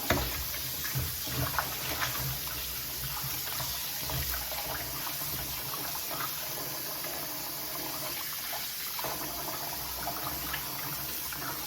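Tap water runs steadily into a kitchen sink as oxtail is rinsed, a continuous close splashing gush with no one speaking.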